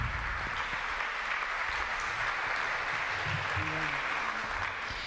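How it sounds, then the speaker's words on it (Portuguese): An audience claps steadily throughout, a dense, sustained wash of applause filling the room at even loudness, with a few murmured voices faintly mixed in. "Texto fortíssimo, podemos aplaudir. Merece aplauso."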